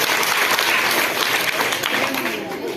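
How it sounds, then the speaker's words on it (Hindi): A quiz-show audience breaks into loud, dense applause for a competing team, a continuous wash of clapping that stays full and close before easing off slightly at the end, with voices mixed in. "एक बार ताली बजाओ, जोरदार ताली।"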